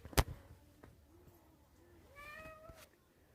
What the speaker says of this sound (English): every time when I live stream, he just meows